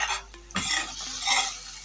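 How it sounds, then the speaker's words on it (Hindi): Eggs being beaten briskly in a bowl for anda ghotala, a steady close scraping and stirring that runs continuously for about two seconds with no talk. "इसको अंडों को अच्छी तरीके से फेंट लेते हैं"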